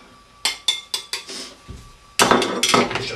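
A dry curry spice mix stirred in a pan, a string of sharp metallic taps and clinks of a utensil against the pan, then a denser burst of rapid scraping and rattling, close and loud.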